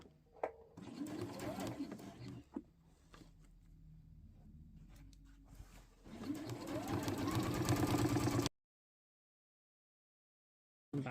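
A sewing machine stitches across fabric with a close, rapid mechanical whirr, starting and stopping, a faster burst near the end, then a cut to silence before a brief return; faint cooing sounds appear alongside.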